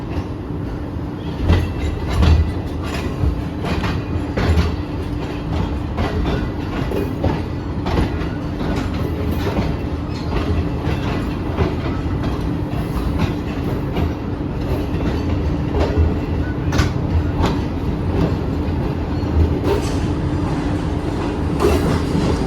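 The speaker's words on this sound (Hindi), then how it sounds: "तो अब गाड़ी ये कि मूव हो गई है" The 27UP Shalimar Express of Pakistan Railways, running Karachi to Lahore, rolls along the rails in a loud continuous rumble, with faint clickety-clack beats throughout and no voices.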